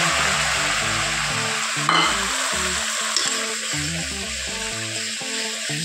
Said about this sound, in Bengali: এই রসুন আর কাঁচা লঙ্কার পেস্টটা তেলে ছেড়ে দিলাম